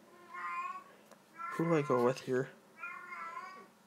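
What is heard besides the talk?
pet cat meowing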